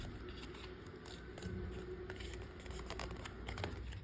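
Paper is folded in and then back while making a large stacking tag pocket, giving a steady crinkly scraping and creasing close to the mic.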